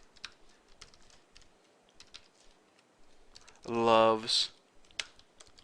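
Rapid clicking keystrokes on a computer keyboard while entering JavaScript code, a steady close patter of taps with a brief spoken word breaking in midway.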